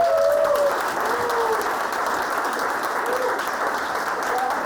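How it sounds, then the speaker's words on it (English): A comedy-show audience gives a steady round of applause for a volunteer named Alicia, dense clapping filling the room, with a few faint whistles or cheers over it. "Big round of applause for Alicia, everyone!"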